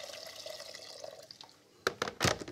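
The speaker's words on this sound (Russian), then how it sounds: "Добавляю воды." Water runs into a cooking pot for boiling spaghetti, a faint steady trickle that stops midway, followed by a couple of louder clunks and splashes near the end.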